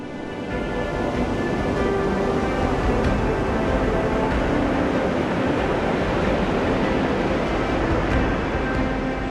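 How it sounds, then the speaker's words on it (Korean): Strong, heightened surf pounds a beach used as a turtle nesting ground, a continuous loud broadband roar of crashing waves that holds steady throughout with no voices. "예전보다 더 강해진 파도는 연일 해변으로 몰아칩니다."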